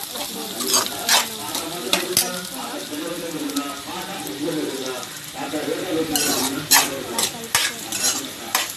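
Drumstick pieces sizzle and fry in a pan while a spoon stirs them, with scraping and clinks of the utensil against the pan throughout and louder bursts of stirring near the end.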